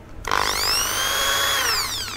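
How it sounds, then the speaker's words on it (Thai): A power drill bores a hole through a DVD disc, starting abruptly with a loud, high whine that holds steady for about two seconds before easing off, close and alone. "เจาะแผ่นซีดี"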